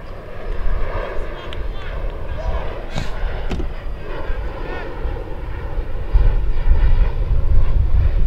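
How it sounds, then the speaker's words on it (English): Airplanes pass overhead above an outdoor boys' soccer championship match, a steady, rumbling engine drone that swells louder toward the end, with voices audible in the background. "as airplanes flying overhead"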